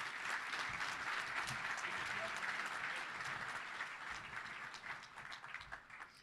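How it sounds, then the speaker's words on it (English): A Touchdown Club luncheon crowd claps for its sponsors, a steady, even roar of applause heard at a distance and fairly faint, easing off slightly toward the end. "Let's give a round of applause to all those great sponsors"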